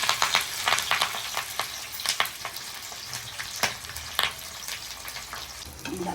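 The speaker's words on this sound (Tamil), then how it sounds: "இப்போ இந்த வாழை இலையில படிச்சு வச்ச மீனை பொரிச்சு எடுக்கலாம்." Fish frying on a banana leaf, sizzling steadily in hot oil with frequent sharp crackles and spits, close and loud, with no voices.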